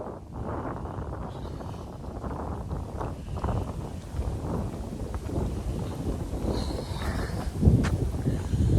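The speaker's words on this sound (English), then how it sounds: "it is very, very windy, as you can hear" Strong wind buffets the microphone outdoors beside a river, a loud, rumbling, gusting roar that rises and falls continuously, with a few faint higher sounds under it.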